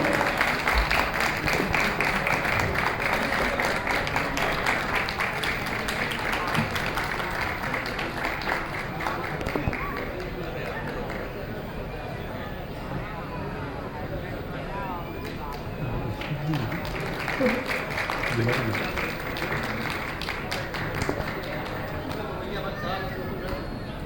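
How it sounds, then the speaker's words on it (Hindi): A large crowd at an Akhil Bharatiya Marwari Yuva Manch honouring ceremony in Varanasi keeps up long, loud, roaring applause, thick and continuous, with crowd voices mixed in throughout. "साथियों, तालियों की ऐसी गूंज होनी चाहिए।"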